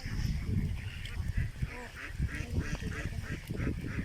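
A flock of ducks on a duck farm quacking and honking repeatedly, fairly close, with a busy outdoor background and occasional voices mixed in.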